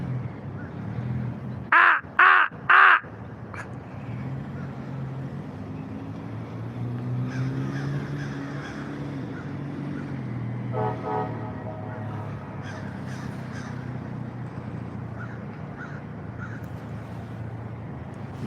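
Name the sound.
crows cawing outside a courthouse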